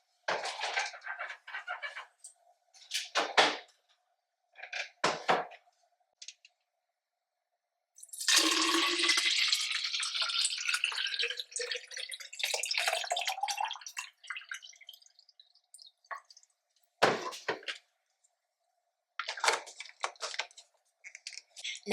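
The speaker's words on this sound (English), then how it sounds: "I have to fill up my water bottle so I can stay hydrated." A water bottle fills from a tap, a sustained splashing, rising stream lasting several seconds, surrounded by scattered clinks, taps and handling noises with silent gaps between.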